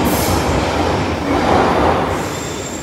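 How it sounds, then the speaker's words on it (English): A London Underground Northern Line train roars into Camden Town station loudly, wheels squealing and rumbling on the rails with a sustained high-pitched screech. "The train is coming."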